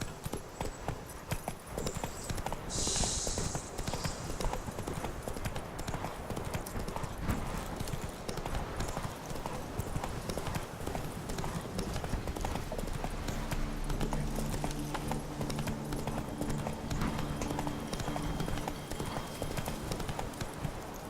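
The horse Roach gallops in The Witcher 3, with a steady rapid clip-clop of hooves running throughout over game ambience, and a low rumble joining in later.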